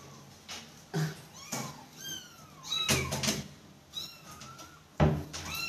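Kitten meowing in a series of short high-pitched rising cries, several overlapping, close by, with soft bumps and knocks between them.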